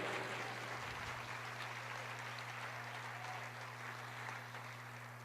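Steady broadband applause from a church congregation fills the whole span, distant and fairly quiet, with a low constant hum underneath.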